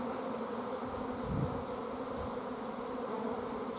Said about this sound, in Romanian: Este un roi foarte frumos, cât albină îi.